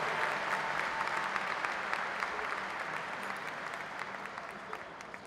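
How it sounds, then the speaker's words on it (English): Audience applause after an ensemble's national anthem and senior farewell song at a school event, a broad steady wash of many hands clapping, fairly distant and soft, slowly fading toward the end. "you, Mrs. Fisher and our Churchill Ensemble, one more time with a round of applause for their performance of our national anthem and senior farewell song."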